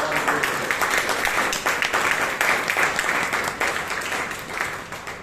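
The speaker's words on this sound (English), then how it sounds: "So, a round of applause for G," A Toastmasters club meeting in Bangalore breaks into applause for the Toastmaster of the Day, a dense, sustained wash of many hands clapping that stays loud throughout.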